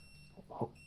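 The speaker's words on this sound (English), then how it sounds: "my fridge alarm is going off for some reason." A refrigerator alarm beeps faintly in a room as a thin, steady high-pitched tone running through the whole moment, with a brief low thump partway through.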